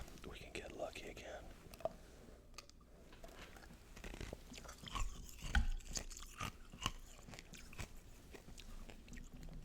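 Close, soft gum chewing with moist smacks and light crunchy bites in a quiet room, mixed with faint whispery mouth sounds and occasional rustle of football card packs.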